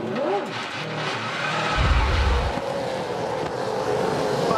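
Supercars race cars power out of a corner at The Bend circuit, engines roaring loudly in a rising, sustained rush with a brief deep rumble midway, heard alone without commentary.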